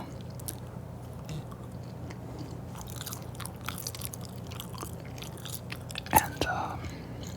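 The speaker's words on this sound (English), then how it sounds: "Gonna do another gum chewing video." Close, wet gum chewing runs steadily under soft whispering, with small squishy smacks and a louder click near the end.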